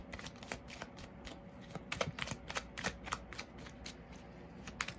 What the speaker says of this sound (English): I am pulling an extra card beside 5 of Wands for advice for you.